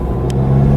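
A Volkswagen MK7 GTI engine pulls hard under full throttle in third gear from about 1500 rpm, a steady loud low drone and rumble that holds through the brief moment without any voice.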